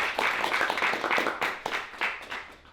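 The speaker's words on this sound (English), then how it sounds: "I want a huge round of applause for that" Audience applause at a tech panel and networking event, a full burst of many people clapping at once, loud and close, holding steady for a few seconds.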